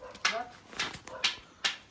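A household dog at a village doorway yelps and whimpers in four short, sharp bursts close by, with a person's voice talking in between.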